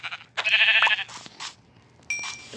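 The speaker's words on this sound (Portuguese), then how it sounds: "Pra matar essa ovelha aqui" A sheep in a blocky crafting video game bleats several times, one long wavering bleat followed by shorter ones and a final bleat, close and clear over quiet.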